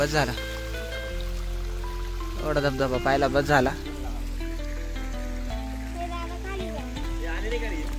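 The Gorakshanath waterfall near Nampur keeps up a steady rushing wash of water in the background while people talk close by.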